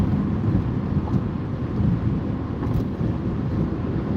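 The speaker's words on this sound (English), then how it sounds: "It's very windy, the car is being pushed, it's very cold." Steady, loud rushing wind buffets the microphone in a car pushed by cold winter wind on an icy, snowy highway, a dense low roar that stays constant throughout with no voices.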